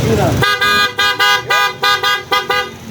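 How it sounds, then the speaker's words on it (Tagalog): A Honda ADV scooter's loud horn honks in a quick series of short, choppy blasts, close by, with a voice briefly heard before the first toot. "Grabe lakas ang busina pala nito."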